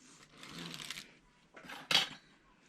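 A Passap E6000 knitting machine carriage makes short rattling, clacking sweeps, two or three separate passes close by, with quiet gaps between them.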